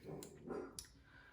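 A couple of short dog barks nearby, sharp and separated by brief pauses, over quiet room noise.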